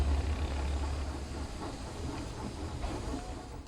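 A train engine pulls away from a railyard, giving a steady low rumble with hiss and faint clickety-clack that stays fairly even and quiet throughout.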